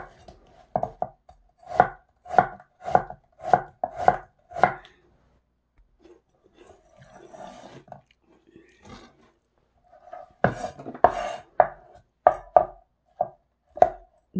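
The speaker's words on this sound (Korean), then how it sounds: "배도 무하고 크기가 비슷하게 이렇게 썰어 놓겠습니다." A knife chops a pear into pieces for nabak kimchi, each stroke a crisp, close knock on the cutting board, first in a steady run of about seven, then a quieter pause and a second uneven flurry.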